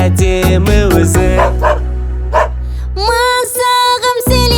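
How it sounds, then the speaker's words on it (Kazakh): Short, bright dog barks and yips punctuate a bouncy Kazakh children's song, sounding loud and close over the melodic backing music in quick bursts. "Ол ақылды ит, бұйрық орындайды"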